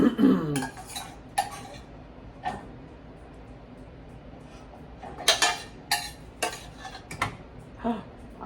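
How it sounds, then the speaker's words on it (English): Metal clanks and scrapes against a cooking pan while zucchini lasagna is made, with a loud clatter at the start followed by scattered sharp knocks and rattles of a spoon on metal in a quiet kitchen. "Spoon fell in the pan and got a little hot."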